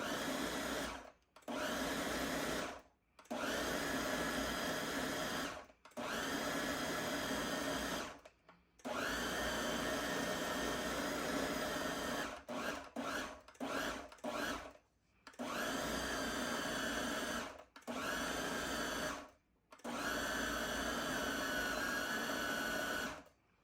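A blender motor whirs loudly in repeated pulses while chopping chicken, running in bursts of a few seconds separated by short pauses, with some quick rapid stutters midway.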